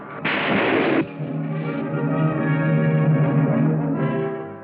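A loud WWII submarine torpedo launch: a sharp compressed-air burst of broadband rush followed by a long, low, tonal rumble and hiss that fades away after several seconds, no talking.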